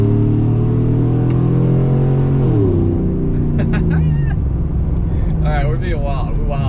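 A Shorty truck engine is pushed at wide open throttle, a loud, close rising drone with strong harmonics that drops sharply as it shifts, then keeps pulling while people talk and exclaim over it.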